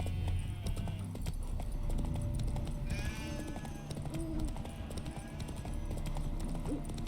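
A horse's hooves clip-clop at a steady walking rhythm in The Witcher 3: Wild Hunt, moderately close, under a dense game soundscape with ambient animal calls and background sounds.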